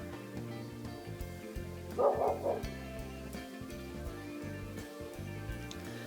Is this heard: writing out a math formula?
no